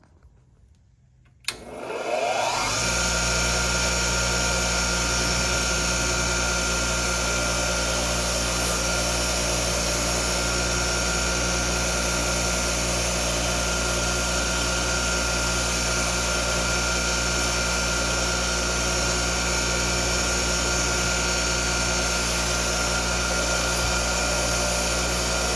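A bench grinder spins up with a brass wire wheel and holds a loud, steady whine while it scrubs a vacuum brush roll from a Cirrus CR69 clean, the tone unbroken and close for the whole stretch.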